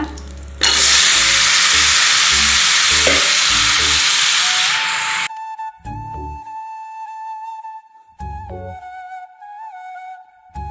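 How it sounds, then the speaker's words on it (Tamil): Raw mango pieces sauté in oil for a Tamil mango pachadi, giving a loud, steady sizzle for about five seconds with scraping stirs underneath. Then the frying cuts off, leaving a quiet room hum and a few short clatters. "இப்போ நம்ம இந்த மாங்காய் எல்லாத்தையும் சேர்த்து நல்லா கொஞ்சம் வதக்கலாங்க"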